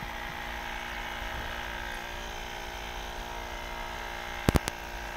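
A portable air compressor runs with a steady, even motor drone at moderate level, with a few sharp clicks near the end.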